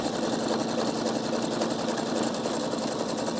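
A Pfaff Quilt Expression 720 sewing machine with a side-mounted motor stitches through quilting fabric in a steady, fast, continuous whir that stays close and even throughout, with no talking.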